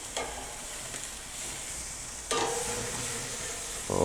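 A leg of lamb sears in a hot pan, a steady sizzling hiss that jumps louder midway as more meat meets the hot surface and rises again near the end, with no talk over it.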